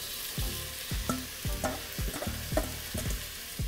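Shallots, ginger and onions sizzle in hot olive oil for a vegan coconut, ginger and curried butternut squash soup, with steady frying crackle and repeated stirring scrapes, close and moderate, no talk.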